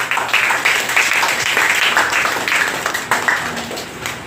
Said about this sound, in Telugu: సరే చప్పట్లు కొడదాం.